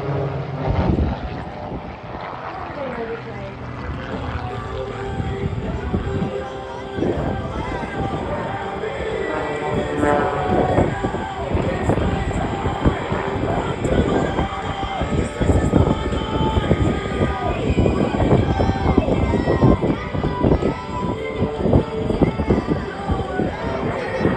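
At the Australian International Airshow 2023, an aerobatic airplane flying a loop drones with a loud, shifting engine roar that rises and swells steadily, mixed with crowd noise and people talking.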